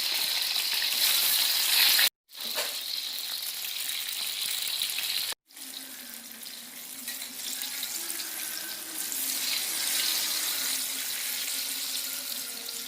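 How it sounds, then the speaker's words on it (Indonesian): Continuous hissing sizzle of eggplant frying in oil, broken by two brief cuts, then settling into a steady bubbling crackle. "Kita goreng terongnya sampai"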